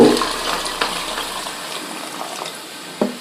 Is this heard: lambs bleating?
no